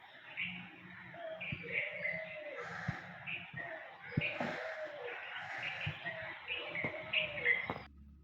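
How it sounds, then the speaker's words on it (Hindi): Birds call at dawn around fajr time, with a dove's soft repeated cooing and scattered chirps and tweets layered over a quiet background, moderately near. "आप आवाज़ सुनिए कितनी खूबसूरत है चिड़ियों की"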